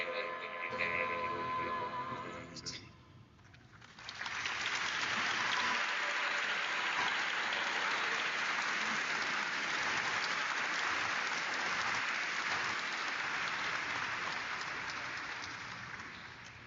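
Graduation audience at a Scotia-Glenville ceremony breaking into sustained applause after a short quiet pause, a dense wash of clapping that holds steady and slowly fades.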